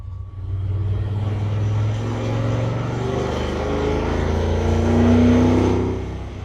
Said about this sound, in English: This is driving a big truck.